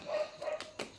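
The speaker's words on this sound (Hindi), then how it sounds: "कुत्ता भौंक रहा है" A dog barks faintly in the distance, two short sharp yaps close together after a soft whining tone, heard alone over quiet background.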